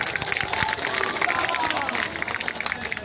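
A large outdoor election rally crowd in Wazirganj, Gaya, Bihar claps loudly and continuously for Narendra Modi, a dense patter of many hands with a babble of voices underneath.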